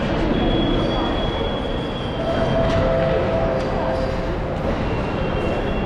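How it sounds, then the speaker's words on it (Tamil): A suburban train at Tirusulam railway station in Chennai rumbles past, with a steady rolling roar and thin high wheel squeals drifting in and out over several seconds. "திரிசூலம் புறநகர் ரயில் நிலையம்."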